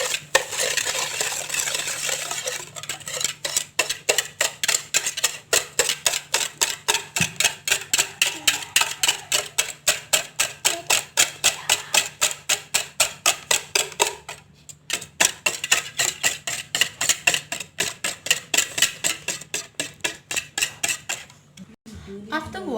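Egg and sugar whisked by hand in a bowl for chocolate brownies, a long run of fast, even clinks and taps of the whisk against the bowl with a brief pause midway, close and steady.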